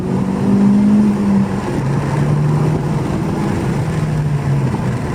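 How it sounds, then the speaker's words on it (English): A 2018 Honda Civic Si with its muffler deleted drones in second gear, a loud, steady low exhaust tone that rises slightly and holds across the stretch, heard up close with no talking. "so as you guys can hear, the car doesn't sound like nothing"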